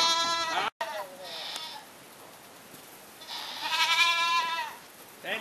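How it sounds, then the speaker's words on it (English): A billy goat being moved on a farm bleats in wavering, harmonic calls, one near the start, a fainter one around two seconds, and a longer loud bleat midway, with a short cry at the end. "That's a good old billy goat."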